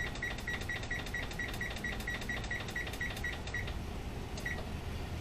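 Electronic kitchen timer being set while ground beef cooks for tacos, a rapid series of short high beeps in a fast irregular run, then a final lone beep, close and clear over faint background hiss.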